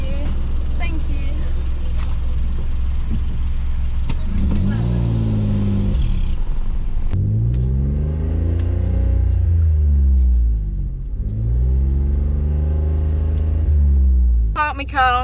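A car engine hums steadily in the cabin while driving and parking, a constant low rumble running under a person talking throughout.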